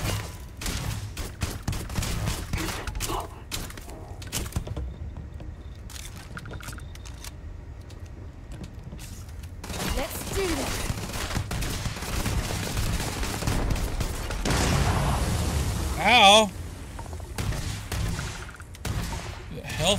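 Gunfire in the video game Starfield, dense bursts of rapid shots and clattering impacts going on through most of the stretch under continuous game noise, with a louder flurry near the end.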